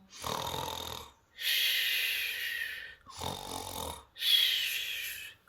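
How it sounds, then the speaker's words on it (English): Loud, rasping snores of a giant in a slow rhythm, four long drawn breaths with short pauses between, close and alone. "With a grunt, the giant closed his eyes and began to snore."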